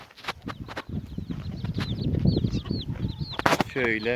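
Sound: broody hens and chicks in a coop

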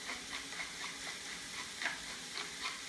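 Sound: vegetables sauteing in a pan

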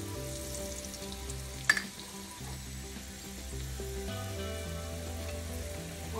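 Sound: spices frying in a pan

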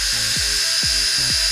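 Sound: Remington XR1470 electric shaver motor running

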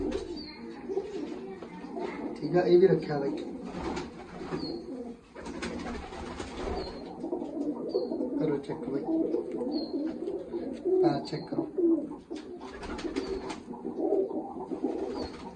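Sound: pigeons cooing

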